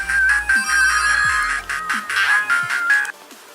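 Tinny, droning game music plays through the small built-in speaker of a Sega Mega Drive/Genesis portable console, a steady buzzy tone over thumping low notes, loud and close throughout.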